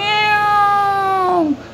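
A voice imitates a cat's meow, voicing the Thor toy: one drawn-out, close meow with a falling pitch at the end, loud and heard alone.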